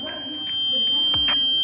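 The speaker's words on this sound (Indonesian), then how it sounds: "buzzer bisa berbunyi karena lingkungan sekitar ini terang." An LDR light sensor circuit's buzzer sounds in a few short beeps over a steady high tone, close and fairly loud, without any talking.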